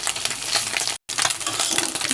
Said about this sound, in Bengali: এই যে মাছটা আমি আরেক পিসটা উল্টে দিয়ে ভেজে নেব